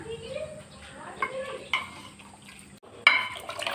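Vegetables being tempered and stirred in a pan in a home kitchen, with soft scraping and sizzling, a few louder clatters of utensil against the pan, and faint talk mixed in.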